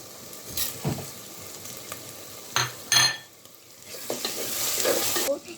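A spice masala for biryani, with cardamom, cloves, peppercorns, mace and bay leaves, fries in a pan. Scraping stirs cut through a steady sizzle that grows louder and busier near the end, with no talking.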